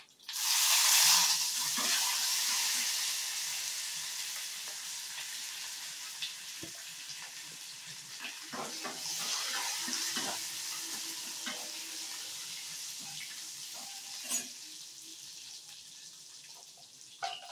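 Curry leaves hit hot oil in a tempering of urad dal, mustard seeds, cumin and dried red chillies for drumstick leaf dal, with a loud burst of sizzle that settles into steady frying crackle and occasional stirring clinks.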